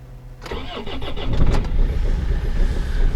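A very cold BMW car engine cranks briefly and catches, then settles into a loud, rough idle that swells slightly, heard close up with no voices.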